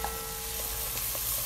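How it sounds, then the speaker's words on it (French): Onions frying in butter in a saucepan as they are stirred, a steady close sizzle with occasional soft scrapes of the spoon, no voices. "Là, je vais venir mettre les oignons. On va mélanger un peu."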